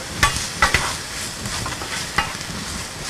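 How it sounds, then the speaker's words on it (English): A spoon stirs a pot of food on the stove, giving several scraping strokes over a soft sizzle, close and fairly loud, with no voices. "Gordy, I think if you'll continue to stir this"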